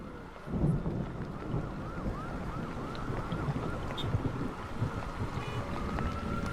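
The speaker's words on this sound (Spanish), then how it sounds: "los truenos empezaron a escucharse" Steady blustery wind roars throughout, with deep low rumbles of thunder rolling underneath and no voices.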